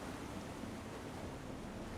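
A waterfall in a house in the Elder Scrolls Online game, a steady soft rush of falling water, continuous and even with no other sounds.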